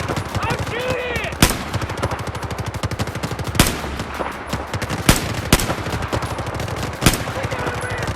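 Rapid automatic gunfire from a Battlefield 4 firefight, with continuous close bursts of rattling shots punctuated by several louder, sharper cracks, and a voice talking faintly underneath.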